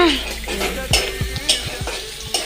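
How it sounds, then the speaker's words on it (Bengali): Spices frying in a pan with ginger paste and chili powder as a home cook makes potato curry: a steady close sizzle broken by several loud scraping stirs of a spoon against the pan, no talk. "মশলা ভাজি ভাজা হয়ে গেছে আমার"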